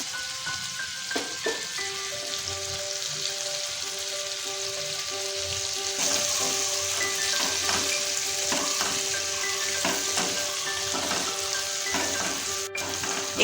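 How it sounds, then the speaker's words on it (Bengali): Shrimp, seasoned with salt and turmeric, are lightly fried in oil, giving a soft, steady hiss of sizzling that grows slightly stronger midway, with faint background music and no voices. "এবার চিংড়ি মাছগুলোকে আমরা ভেজে নেব, খুব বেশি ভাজবো না, হালকা করে ভেজে নেব।"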